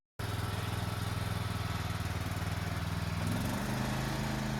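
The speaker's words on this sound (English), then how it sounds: "he built this dump tractor from 2 lawn mowers" A homemade dump tractor built from two lawn mowers runs with a steady, close, rapid small-engine putter, and the engine note shifts slightly near the end.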